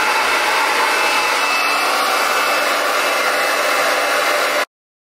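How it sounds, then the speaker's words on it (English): A hair dryer blasts steadily and loudly at close range while blow-drying roller-set curly hair under a cap, a constant unbroken whoosh that cuts off abruptly near the end. "now we put this back on and just blow dry it for another"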